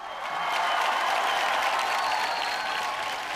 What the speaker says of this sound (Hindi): ये जोरदार तालियां पूरे हिंदुस्तान के लिए